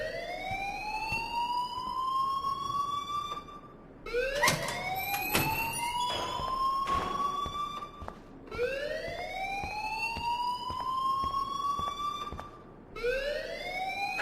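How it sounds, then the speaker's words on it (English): A school alarm rings in the video game Life is Strange, a wailing tone that sweeps upward and repeats about every four seconds, with short gaps and clicks between cycles. It is moderately quiet, with no talking. "please turn off that alarm since that's your job"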